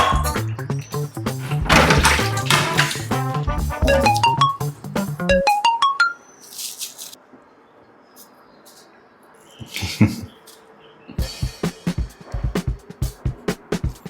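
A phone chiming a rising, tinkling melodic tone as a message notification, followed by clattering thumps and knocks nearby, with brief bits of talk around it.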